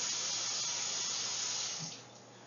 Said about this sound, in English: I'm just going to fill this up with some cold water